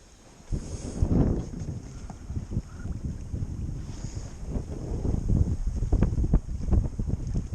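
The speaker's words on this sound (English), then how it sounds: "Morning sail out of Foy." A sailboat heads out of Fowey on a windy morning, with steady wind buffeting the microphone, water rushing and slapping along the hull, and irregular creaks and knocks from the boat.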